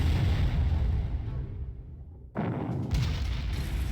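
A bomber striking a tank in the Panzer Corps strategy game, a heavy booming blast that rumbles and fades, then a second loud impact bursts in and keeps roaring.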